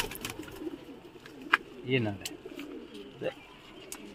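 Pigeons coo softly in a loft, a few short low coos and faint wing or cage sounds, with someone speaking Hindi nearby.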